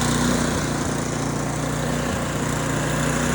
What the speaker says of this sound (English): I hope you have one of these snow blowers, because that's where it's at.